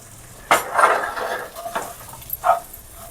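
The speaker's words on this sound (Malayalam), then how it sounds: "ഇത് നമുക്ക് നന്നായിട്ട് ഇതൊന്ന് മിക്സ് ചെയ്യാം." Metal spoon scraping and clinking against a cooking pan as a masala mixture for Kerala beef perattu is stirred, a few short, close, uneven bursts with quiet gaps between them.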